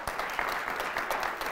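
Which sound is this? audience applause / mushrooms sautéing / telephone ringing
audience applause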